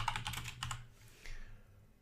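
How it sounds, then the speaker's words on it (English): Quick bursts of keystrokes on a computer keyboard, close and crisp, a rapid run of clicks followed by a few lighter taps. "Actually, I'm going to just type in general journal."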